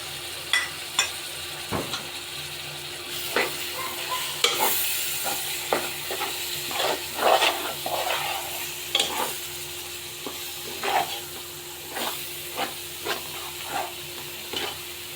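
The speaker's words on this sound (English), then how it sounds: "It's been around 10 minutes roasting it on slow flame." Curry leaf, garlic and onion thokku roasts in oil over a slow flame, a low steady sizzle broken by regular scraping stirs of a spoon against the pan, close and moderately quiet.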